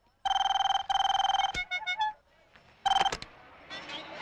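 A telephone rings in a Hindi comedy scene: two loud bursts of a trilling electronic ring, then a brief electronic chime and a final ring burst, followed by faint background noise.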